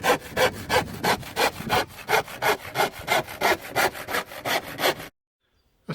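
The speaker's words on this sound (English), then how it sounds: "So it's out with the saw and the wood." A hand saw cuts through wood while shelving is built beside a workbench at a cabin: a dozen or so steady back-and-forth rasping strokes, close and loud, then a sudden stop into near silence.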